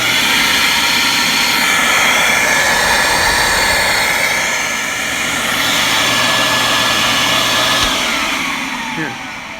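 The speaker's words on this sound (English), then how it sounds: "just so you can hear what the new motor sounds like" Beam central vacuum running on a brand new motor, a loud continuous whooshing roar that holds steady throughout, with slight shifts in pitch and airflow.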